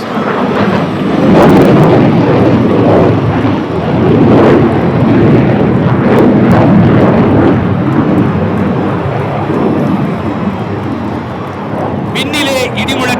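A Su-30 jet flying aerobatics at an air show, a loud continuous roaring rumble that swells and recedes as it passes overhead, sustained for several seconds.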